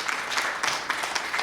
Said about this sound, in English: If we can give them a warm round of applause